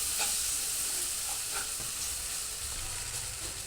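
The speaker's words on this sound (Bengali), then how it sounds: "হলুদ দিয়ে দিচ্ছি, একটু কষাই নেব, মশলাগুলো ভালোভাবে কষাই নেব" Ground spices with turmeric fry steadily in hot oil, a continuous sizzle broken by light scrapes and clicks of a spoon stirring the pan, close and even throughout, with no voices.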